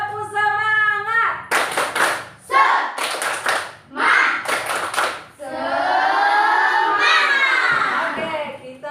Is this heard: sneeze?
no